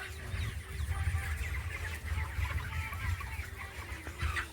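Chickens cluck and murmur steadily close by, a busy overlapping chatter of fowl against a low rumbling background.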